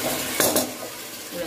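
Chopped tomatoes being stirred in a pan for chicken biryani, with a couple of sharp scrapes and clinks of a spoon against the metal over a soft, continuous sizzle.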